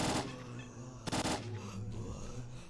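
Gunfire in S.T.A.L.K.E.R. Clear Sky comes as sharp bursts of rapid shots, one loud volley at the start and another around the middle, over a low rumbling game backdrop.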